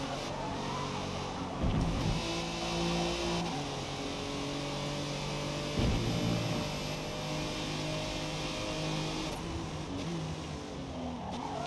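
A race car in Forza Motorsport launching out of a slow corner in second gear, with a steady engine drone that builds and revs, shifting pitch a couple of times over a continuous hum.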